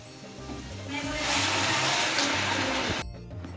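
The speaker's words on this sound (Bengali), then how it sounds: "এবার দিয়ে দেবো হচ্ছে উষ্ণ গরম জল।" Warm water poured into a pot of potato curry with spices, a rushing splash that swells, holds for a couple of seconds, then stops abruptly.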